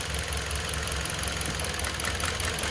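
Toyota Corolla engine idling unevenly with a steady low rumble and slight rhythmic roughness as a cylinder connector is pulled, a misfiring, shaking engine heard close up without talk.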